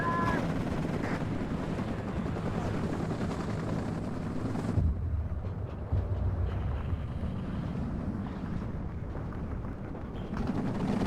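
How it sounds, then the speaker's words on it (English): Gunfire and heavy battle noise in the Vietnam-era wargame WARNO: dense, continuous rattling machine-gun bursts and .50-calibre fire blend with rumbling explosions, loud and steady throughout, with no voices. "Over here, the 50s and the machine guns are doing their work."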